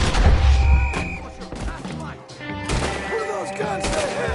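Gunfire in a video game rings out in sharp cracks and thumps alongside heavy low rumbling, with voices speaking over the action throughout.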